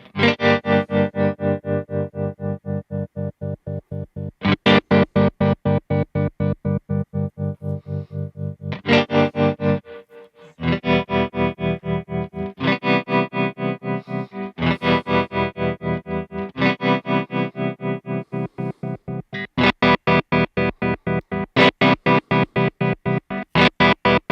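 A Kemper Profiler tremolo effect on a distorted electric guitar chops sustained chords into a steady pulse. The pulsing runs for about 24 seconds and changes from a smooth sine-like throb to hard, abrupt square-wave on-off chopping, with no talking.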